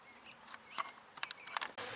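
Honey bees buzz around hive entrances in a short, faint hum, with individual bees swelling and fading as they fly past close by, over a quiet outdoor background.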